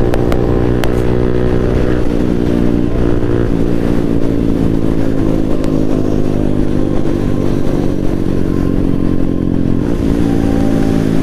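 A KTM RC 200 motorcycle is ridden on a Sunday group ride, its loud engine droning continuously up close beneath heavy wind rush.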